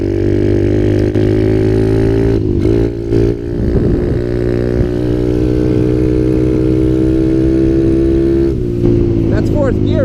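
A 2020 Kawasaki KLX 110L pit bike fitted with a Pro Circuit exhaust, ridden close and loud with a buzzing drone that dips at gear shifts, while a rider talks over it.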